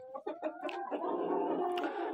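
Chickens and roosters in a flock of about fifty hens with four roosters cluck in short bursts that merge into a steady, close chorus of calls.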